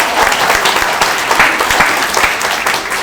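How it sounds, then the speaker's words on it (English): An audience at a talk on Kentucky quilts and quiltmakers breaks into loud, sustained applause, a thick continuous patter of many hands filling the room with no speech over it. "applause is good."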